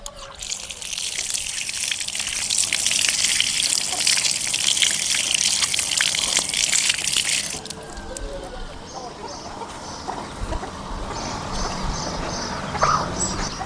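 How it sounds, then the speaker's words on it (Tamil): Raw mango is washed under running water in a home kitchen. A loud, steady gush fades into a softer trickle and splashing partway through, and it is heard close up. "மாங்காயை பால் இல்லாத சுத்தமாக கழுவி எடுத்துக்கணும்"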